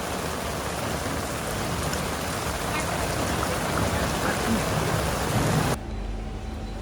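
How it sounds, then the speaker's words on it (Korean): Heavy rain pours down in Italy, a dense, loud, continuous hiss of drops pounding surfaces up close, which then drops abruptly to a quieter, muffled wash near the end. "비가 진짜 오지게 옵니다. 장난 아니에요."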